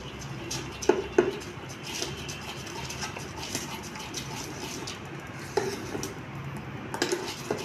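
A spoon mixes dosa batter with sugar and salt in a bowl, giving soft wet stirring with a few sharp clinks of utensil against the bowl. The sound is close and quiet, and no one speaks.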